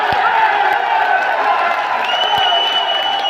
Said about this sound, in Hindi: रामस्वरूप जी के लिए ताली बजाओ सभी लोग